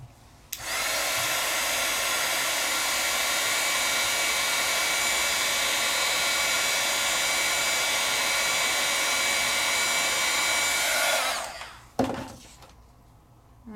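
A handheld heat tool blows hot air to dry painted stamping ink on a card, a loud, steady whir that runs for about eleven seconds before cutting off, followed by a brief clunk.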